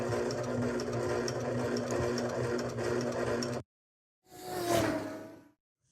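A sewing machine hemming denim jorts runs in a steady close mechanical whir for several seconds, stops, then comes back in a brief second burst.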